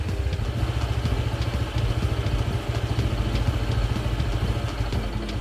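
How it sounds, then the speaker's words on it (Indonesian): A Honda PCX160 scooter engine idles steadily on its last fuel, a continuous low mechanical throb with faint ticking clatter, close and even throughout with no talk. "Kita akan coba diamkan dulu beberapa saat sampai motor ini berhenti"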